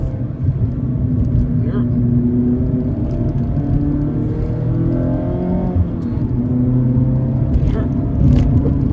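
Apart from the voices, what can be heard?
2022 Mazda Miata MX-5 engine accelerating through gears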